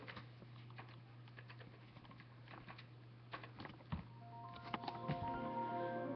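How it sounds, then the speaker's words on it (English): Someone types a password on a computer keyboard at a Windows ME logon screen, a quiet, close, uneven patter of key taps over a steady low hum, with a brief tone rising near the end. "Let me type in my password."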